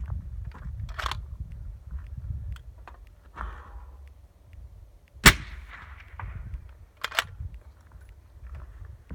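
A rifle in 6.5 Creedmoor fitted with a Thunder Beast Ultra suppressor fires a single sharp, loud shot partway through, over quiet background rumble and small clicks and handling noises.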